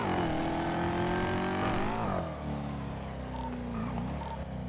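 A teal Bugatti pulls away with its engine revving hard, the loud rising whine climbing steadily, dropping into a lower, steadier drone after a gear change, and carrying on strongly to the end.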